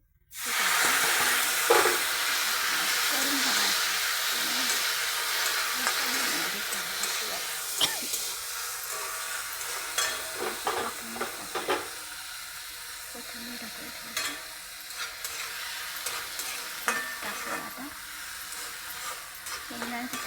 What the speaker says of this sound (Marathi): एक गवार वाफून घेतली